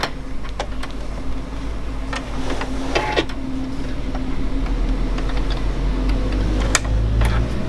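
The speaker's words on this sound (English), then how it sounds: "So let's pop the foot back on." A presser foot snapping back onto a Juki DX7 sewing machine, heard as a few light plastic-and-metal clicks and taps over a steady low hum, close and soft, with no talking.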